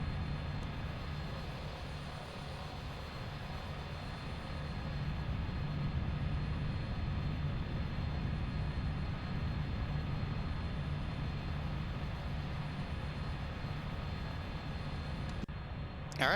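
Cessna Caravan turboprop engine running steadily while the aircraft taxis, a continuous broadband roar with a constant low hum throughout, close and loud.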